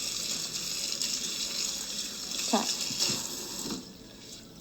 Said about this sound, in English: So we'll get started by just rinsing those real quick.